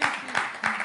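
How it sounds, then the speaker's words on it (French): Studio audience at a French talk programme applauding briefly, a short burst of clapping with a few distinct claps heard alone at moderate loudness. "Est-ce que vous-même, vous pouvez applaudir pour vous, s'il vous plaît, là-bas?"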